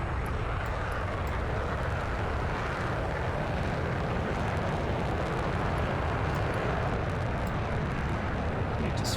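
An aircraft engine roars at full power during a takeoff run in the DCS flight simulator. The loud, dense, steady drone runs without a break, and a faint rattle sits over it.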